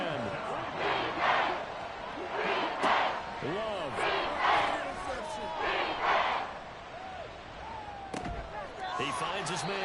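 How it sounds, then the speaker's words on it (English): A football stadium crowd roars and cheers in rolling surges across the whole stretch, with a commentator's voice talking over it and a sharp bang near the end. "this crowd is making an impact right now"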